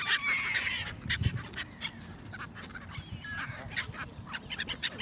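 Geese and ducks at Leazes Park Lake in Newcastle keep up noisy honking and quacking near the listener, with frequent overlapping calls and outdoor background noise.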